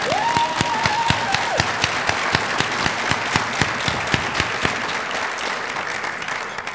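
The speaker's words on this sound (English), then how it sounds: "Let's give them a round of applause." A crowd applauds steadily throughout, dense clapping with sharp individual claps standing out, loud and close.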